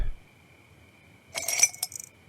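Glass being broken into shards in the NEO Scavenger video game: a short burst of bright clinking and tinkling lasting about half a second, then a single sharp clink, heard alone over a quiet steady hum.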